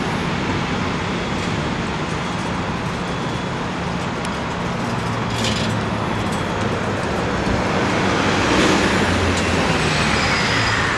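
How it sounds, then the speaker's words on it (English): Steady traffic roars through a busy downtown Ottawa intersection on a main through route used by trucks. The wash of engines and tires is continuous and fairly loud, swelling slightly toward the end, with no talking. "this is the main through traffic route,"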